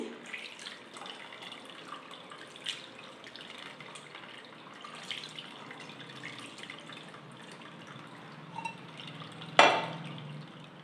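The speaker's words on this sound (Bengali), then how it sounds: "এর মধ্যে এবার আমি ঠান্ডা জল দিচ্ছি।" Cold water poured over freshly strained chhena for Bengali mango sandesh: a continuous close splashing trickle with small drips, ending in a sharp knock of a vessel.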